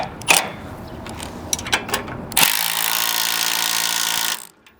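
A power tool whirs loudly and steadily for about two seconds after a few clanks and knocks, while a half-inch breaker bar tightens the X-axis belt bolt on a slab-harvester machine.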